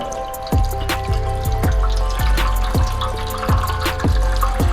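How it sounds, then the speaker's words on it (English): Water runs and splashes steadily into a casserole dish, with a series of sharp drips or knocks landing at a regular pace over the flow. "we will require a casserole dish into which we will add some water"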